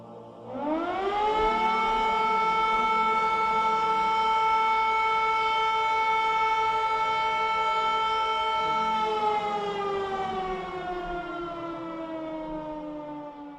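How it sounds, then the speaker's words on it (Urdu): A quiz siren wails up from nothing in a smooth rising sweep, holds a loud, steady, harmonically rich tone for several seconds, then slowly winds down in pitch, alone with no voices. "بونس کوئز کا سائرن بج چکا ہے، تو آپ لوگ ریڈی ہو جائیے."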